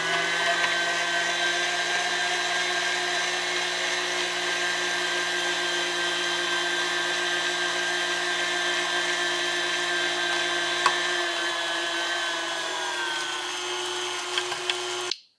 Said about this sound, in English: So I'm going to stop talking and just grind this meat.